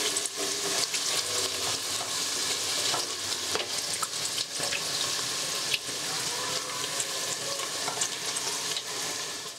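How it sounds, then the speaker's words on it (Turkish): Water draining from food in a kitchen sink while onions fry nearby, a constant hiss of running water and sizzling that fills the whole stretch, with small clinks and knocks. "Ben orada bunun suyunu süzeyim."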